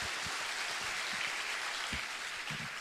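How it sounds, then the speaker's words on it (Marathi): Audience applause during an interview event, a dense, even patter of clapping heard close, steady and unbroken throughout, with no voices. "एकदा जोरदार टाळ्या होऊ द्या"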